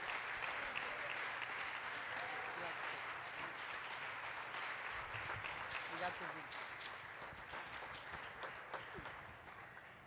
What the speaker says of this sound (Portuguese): vamos aplaudi-lo poderosamente